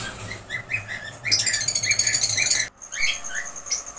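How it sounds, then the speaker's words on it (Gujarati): A pair of violet lovebirds chirp close by in quick, high repeated tweets, swelling into a dense, rapid burst of calls before settling back to scattered chirping. "આ લવબર્ડની જોડી છે, વાયોલેટ માસની."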